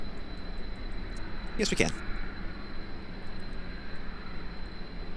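A steady engine drone from a snubnosed plane taking off from a runway in the game Kerbal Space Program hums continuously throughout, with someone speaking briefly over it.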